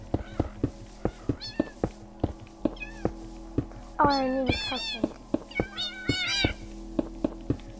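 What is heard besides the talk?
cat meowing in Minecraft video game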